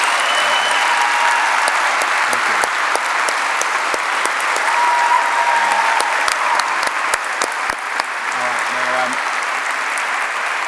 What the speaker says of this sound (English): can we have a round of applause one more time